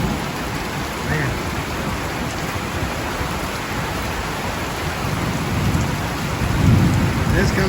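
Heavy rain, the first in over a month, comes down hard in a dense, steady roar, with thunder building low and rumbling louder toward the end.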